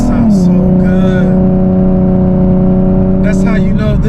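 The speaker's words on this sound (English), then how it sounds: "The V6 has a great sound, and once you put the right exhaust system on" A 2016 Nissan 370Z Nismo V6 engine idles with a deep, steady exhaust rumble, with brief revs at the start and near the end, loud and close.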